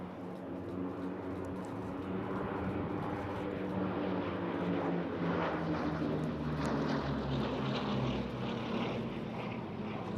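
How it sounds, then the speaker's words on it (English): A Bristol Blenheim bomber makes a solo display pass at an airshow, its piston engines droning steadily and swelling as it passes, with a steady broadband roar throughout. "we get an opportunity to appreciate the Blenheim solo in our display area"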